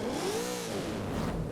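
A Brabham BT62 supercar engine in Forza Horizon 5 fires up and revs, a rising then falling mid-pitched engine note that swells and settles, moderately quiet with no voices.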